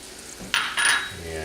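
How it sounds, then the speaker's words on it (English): Flour, oil and spices stirred together in a pan for a roux, with a couple of short scraping strokes and a soft rattle against the pan, fairly close and quiet. "give that a good stir"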